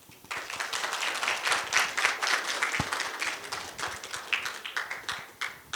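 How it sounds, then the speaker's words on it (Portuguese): An audience at a medical forum on breast genetic panels gives a round of applause for a professor, dense clapping that builds quickly, holds, and then breaks into scattered claps as it fades. "salva de palmas para a professora Rosemar"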